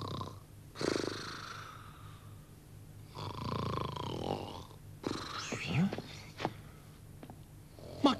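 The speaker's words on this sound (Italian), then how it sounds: "No, è impossibile che possano russare così forte." Heavy, raspy snoring in a Little Red Riding Hood cartoon at grandmother's cottage comes in slow, drawn-out breaths with wheezing pauses between them, fairly close and muffled.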